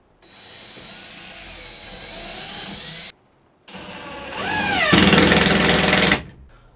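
A power drill pre-drills holes, its motor whining in a steady run, stopping briefly, then spinning up again louder and harsher as the bit bites before winding down, close and without talk.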